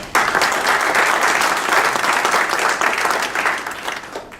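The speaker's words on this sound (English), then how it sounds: "we give David a round of applause" Steady audience applause at a Joliet redevelopment meeting for the principal of Madison Realty Group, a dense even clapping that holds for about four seconds and fades slightly at the end.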